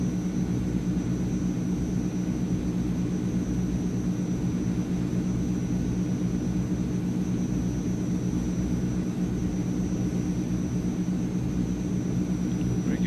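Transall C160 twin-turboprop cargo plane engines in Microsoft Flight Simulator, a loud, steady, continuous drone that holds unchanged throughout, with no talk over it.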